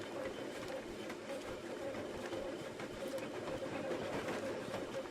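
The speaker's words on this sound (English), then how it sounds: "this train takes about 44 seconds to do a complete loop" A train in the Bad Way video game, a steady low rumble and rolling engine noise that holds continuously at moderate level without clear rise or break.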